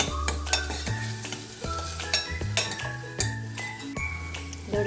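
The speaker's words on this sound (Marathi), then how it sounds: "हळद घालूया, आलं लसूण पेस्ट हे पण परतून घ्यायचं." Turmeric and ginger-garlic paste sautéing in a pan, a low steady sizzle broken by repeated clinking, scraping strokes of a spoon stirring close by.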